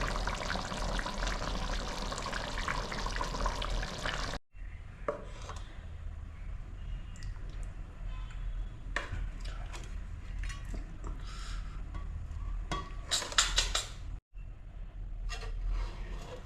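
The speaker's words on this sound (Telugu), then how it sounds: "గుమగుమలాడే చేపల పులుసు వేసుకుంటున్నానమ్మా" Home-cooked fish curry (chepala pulusu) with rohu ladled from a pot in a kitchen, giving scraping and pouring sounds with clinks of the serving spoon against metal, close and fairly quiet, with brief silent pauses.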